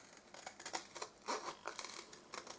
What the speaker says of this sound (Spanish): Y ahora con unas tijeras lo recorto.